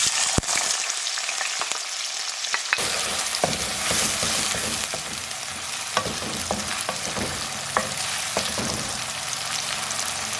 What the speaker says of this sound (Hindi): प्याज को मैं फ्राई कर लूँगी